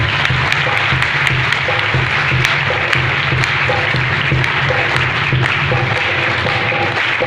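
A church congregation gives sustained, even applause at a Sunday service, a continuous broad roar of many hands over a low steady hum.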